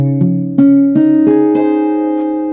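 Guitar chord strummed note by note on an acoustic guitar with the fifth string muted by the thumb, five plucks in steady sequence that ring out and sustain together, clear and close with no talking.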